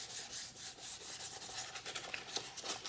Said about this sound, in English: we're just gonna wet sand this guy